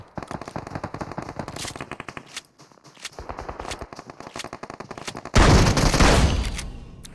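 Rapid gunfire in a first-person shooter game, shotgun among the weapons, rattling bursts in quick succession with brief pauses, ending in a loud sustained volley.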